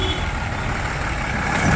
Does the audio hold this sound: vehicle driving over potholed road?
yes